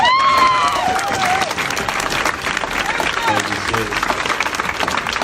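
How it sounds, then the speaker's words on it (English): Crowd applause and cheering at a live outdoor protest, a loud continuous wash of clapping with whoops and raised voices over it throughout. "let's give Sim a round of applause as he comes."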